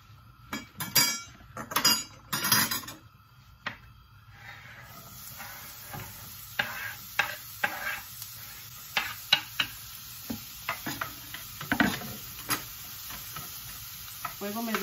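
Onion is added to a pan over medium heat for frijoles charros, with clattering and stirring knocks at first, then a quieter hiss of frying and scattered utensil clinks, with no voices.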